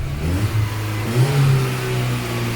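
A Peugeot 204, its carburettor freshly cleaned, revs briefly. A mid-pitched engine drone swells and falls back, close and steady, with no one talking.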